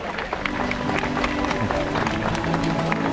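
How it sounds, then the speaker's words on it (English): Applause from the audience at a sea lion show at Pleasurewood Hills in Lowestoft, Suffolk: a few seconds of scattered clapping from the crowd, with some voices mixed in. "Give her a big round of applause"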